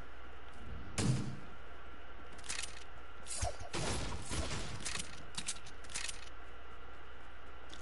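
Gunshots fired at the floor in a console shooter, a scattering of sharp, fairly faint cracks and short bursts spread over several seconds.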